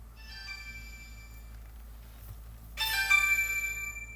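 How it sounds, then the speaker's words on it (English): An incoming call sets a phone ringing with a quiet electronic ringtone melody of clear tones, which then grows brighter and louder in a burst near the end. "Getting a phone call."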